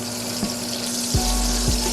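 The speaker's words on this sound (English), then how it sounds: "I have a little oil in the pan," A pan of oil with butter melting in it gives a steady hiss and fizz, joined by a constant tonal hum and a couple of low thumps, with no one talking.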